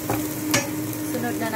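Garlic fries in a pan for squid adobo, giving a close steady sizzle with brief stirring scrapes, a quick spatula clink near the middle, and no voices.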